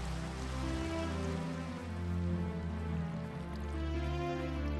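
Rain falls in the Minecraft video game, a steady, even patter and hiss that runs the whole time at moderate level with a low droning hum beneath it and no voices.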